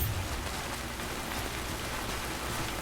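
Steady rain falls in the video game Death Stranding, a dense, even hiss of drops on surfaces that keeps going throughout without change and with no voices.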